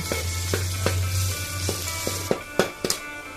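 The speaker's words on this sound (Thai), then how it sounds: "พอน้ำมันเริ่มร้อนใส่พริกแกงเผ็ดลงไปค่ะ ผัดพริกแกงเผ็ดไปมาสักพักหนึ่ง" Red curry paste sizzling in hot oil, a steady fry with a low hum beneath and several sharp scrapes and clatters of stirring toward the end.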